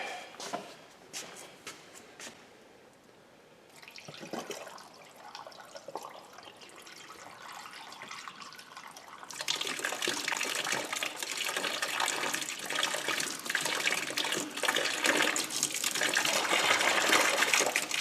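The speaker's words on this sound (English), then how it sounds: "Flush it back the other way." Water is back-flushed through a car heater core during a cleaning job: an intermittent splashing and trickling at first, then a steady loud gushing rush of water that keeps building to the end.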